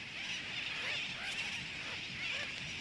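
A huge sooty tern seabird colony on Christmas Island in the Central Pacific, with a dense, continuous din of overlapping calls and honking cries that never lets up.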